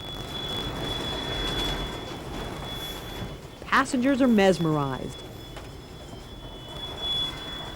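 A train on the Rovos Rail Pride of Africa rolls slowly around a curved semicircle of track with steady rumbling and faint metallic wheel squeal, while a narrator speaks briefly over the continuous rail noise.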